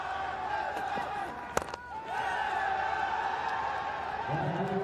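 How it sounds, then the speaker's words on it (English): Nepalese crowd at a Hong Kong Sixes cricket match against Australia, a dense, sustained roar that swells louder, with a sharp bang partway through and a commentator speaking over it. "The Nepalese crowd, the volume's going up."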